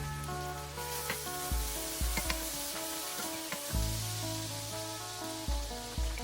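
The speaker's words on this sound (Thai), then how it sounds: "อันนี้ก็จะคั่วไปเรื่อยๆเนาะคั่วกับเครื่องปรุงทั้งหมดมันเข้ากันกับเนื้อหมูแล้วสิ" Pork tossed in a pan with garlic and seasonings, sizzling in a steady, close frying hiss broken by occasional scrapes and stirring clatters.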